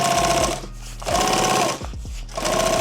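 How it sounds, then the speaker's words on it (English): Sewing machine hemming through three stacked fabric layers along the perimeter of a micro chest rig, running in steady loud bursts with brief pauses between stitching runs. "Okay, so now I'm just sewing the perimeter."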